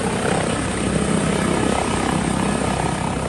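A helicopter lifting off from a takeoff area near trees gives a loud, continuous roar of rotor and engine very close up, with no voices.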